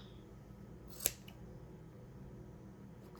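Scissors snip once through wallpaper while a gift tag is being made, a single sharp close cut standing out from a quiet room.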